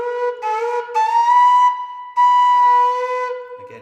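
A whistle is underblown softly at low breath, giving wavering, lower notes that sometimes jump up to a higher tone, with brief gaps between blows.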